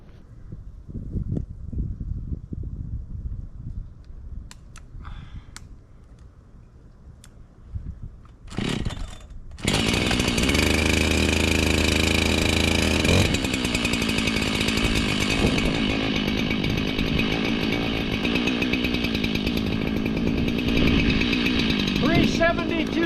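Husqvarna XP chainsaw revving up loud and close after a stretch of quieter outdoor sound with talking, then holding a sustained high-pitched whine during property maintenance.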